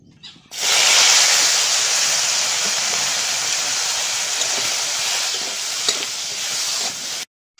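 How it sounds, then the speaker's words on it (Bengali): Chiti crabs fry in a hot pan, a loud, steady, broad sizzle that starts abruptly, holds evenly for several seconds, then cuts off. "কাঁকড়াগুলো ভেজে নেব।"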